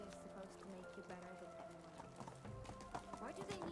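Horse hooves clip-clop at a steady riding pace in the medieval survival game Medieval Dynasty, layered with game music and a talking voice over the top.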